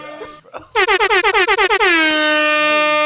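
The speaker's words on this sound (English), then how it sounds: "Oh, hold on, I gotta get the air horn." A loud air horn blares in a rapid series of short honks, then holds one long sustained blast.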